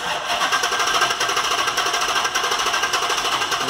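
Dodge Charger 5.7 V8 engine cranking on the starter during a compression test, a steady rapid mechanical churning with rhythmic pulsing that continues evenly throughout, close and loud with no talk.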